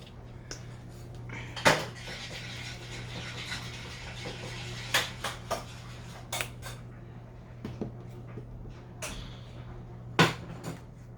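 Faux cake pop frosting being mixed in a container gives quiet scraping and scattered sharp clinks and taps against a steady low hum, with a few louder knocks spaced irregularly.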